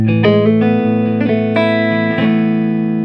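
Electric guitar played through a solid-state Roland Blues Cube Stage 60 W amp set near noon with the Robben Ford tone capsule, a run of picked notes and sustained chords ringing out steadily alone with light overdrive and reverb.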